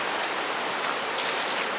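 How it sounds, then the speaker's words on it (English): A small waterfall where Weisser Creek runs in near the Nantahala Outdoor Center on the Appalachian Trail gives a steady, broad rushing hiss, close and unbroken, with no voices. "there's another little waterfall up here where the Weisser Creek runs into it"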